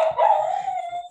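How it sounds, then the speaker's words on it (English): A dog barks and howls in the background of an indoor room, one drawn-out, wavering howl lasting about a second at moderate loudness, with no talk over it. "Excuse my dog in the background."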